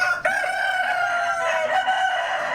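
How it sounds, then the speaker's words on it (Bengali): A rooster crows loudly on a farm among multicoloured tiger breed parent laying hens, one long drawn-out call over soft background clucking and farm noise. "এই দেখেন আমার খামারের প্যারেন্টস মুরগিগুলা কতটা সুন্দর।"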